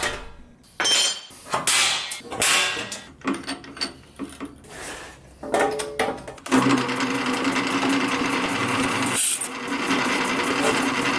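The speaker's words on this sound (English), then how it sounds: "might as well drill some holes" Power drill boring holes into a metal tank during a twin-turbo LT engine swap on an RX7, heard as short bursts and rattling impacts giving way to a steady, loud whirring run.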